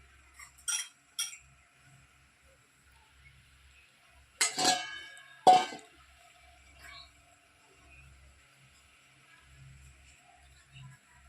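A spoon clinks against a wok while ground cumin and coriander go in for a whole-brinjal masala, giving a few sharp metallic taps in two brief clusters separated by quiet, close and fairly clear.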